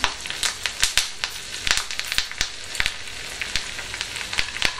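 Cashews fry in hot oil with cumin, pepper, green chili, ginger and curry leaves for rava pongal, giving a steady close sizzle broken by frequent sharp crackles and pops, with no talking.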